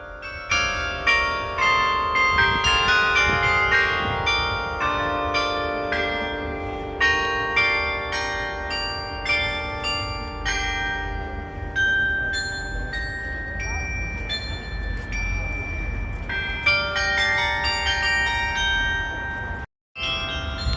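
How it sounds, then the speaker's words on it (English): Church bells played from a keyboard in Hamburg ring out a melody, many overlapping tolling notes in a lively sequence that rings on and decays, with a brief dropout near the end. "and that's how you play church bells."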